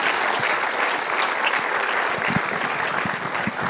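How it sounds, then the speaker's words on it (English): Steady applause from a crowd at a school gala, many hands clapping densely and evenly throughout without a break. "Give these people a round of applause"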